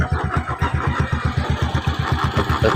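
A Suzuki Smash 115 motorcycle engine with unusually noisy internals runs steadily at idle, with a loud, rapid rhythmic chugging and mechanical clatter close by, no voices.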